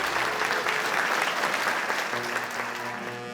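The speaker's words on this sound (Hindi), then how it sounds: "हमारे जज साहब का जोरदार तालियों से स्वागत करें" An audience gives a loud, steady round of applause to welcome a judge at a gathering, the dense clapping easing slightly toward the end as a low tone enters.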